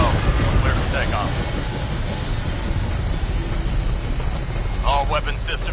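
A Fallout 4 aircraft takes off with a sustained, loud engine roar that holds steady throughout, while a voice speaks briefly near the start and again near the end over it.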